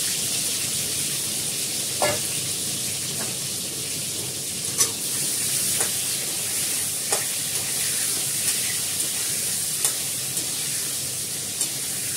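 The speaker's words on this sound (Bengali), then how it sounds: "আলুটা প্রথমে ভাজবো" Potatoes frying in hot oil in a pan, a continuous close sizzle and hiss with scattered sharp taps and scrapes of stirring at irregular intervals, no talking over it.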